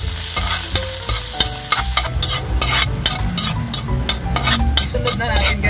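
Ginger hits hot oil in a pan for a chicken and tomato dish, producing a loud, continuous sizzle and crackle that swells sharply about two seconds in, with tonal sounds underneath.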